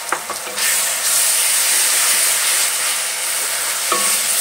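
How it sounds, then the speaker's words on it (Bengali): Onion, ginger and garlic paste frying in a pan for a mutton curry, a steady bright sizzle with occasional soft stirring scrapes near the start and end, close and continuous with no voices. "এখন আদা রসুন কাঁচা লঙ্কা বাটাটা দিয়ে ভালো করে কষিয়ে নেব"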